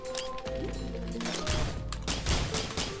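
Rapid gunfire in the Risk of Rain video game comes as a dense stream of quick, crackling shots over game music and effects, loud and continuous.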